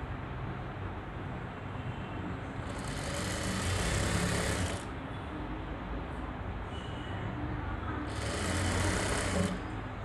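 A sewing machine stitches fabric for a garment pocket, a loud close continuous whirring drone that speeds up twice in longer surges before settling back, no speech.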